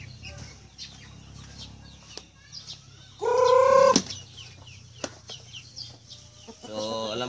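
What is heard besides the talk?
chickens clucking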